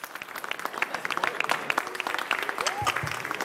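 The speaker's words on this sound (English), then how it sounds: "Please, big round of applause to Danish." Audience applause at an Honor innovation launch event as a presenter is welcomed to the stage: steady, dense clapping from a crowd throughout, with a few voices and a brief whistle-like call mixed in near the end.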